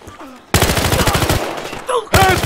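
Rapid bursts of M416 rifle fire in Battlefield Hardline, loud and close, in a dense stream of shots, a short gap, then another burst starting.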